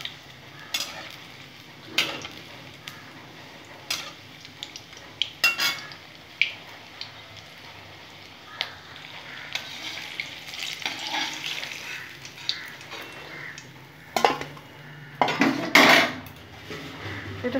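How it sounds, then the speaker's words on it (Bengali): Vegetarian food fried in a pan and turned over repeatedly until reddish, with sharp clinks of a utensil against the pan over a steady low sizzle and no speech. "এইভাবে লাল লাল করে উল্টো পাল্টে আমি ভেজে নেব।"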